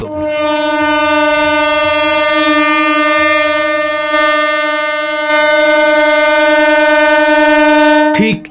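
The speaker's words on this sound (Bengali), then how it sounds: "দ্বারকেশ্বর নদীর ওপর দিয়ে ট্রেন ছুটে চলেছে গোঘাটের উদ্দেশ্যে" A loud train horn blares continuously for several seconds over the rumble of a train crossing the Dwarakeswar River bridge, then cuts off abruptly.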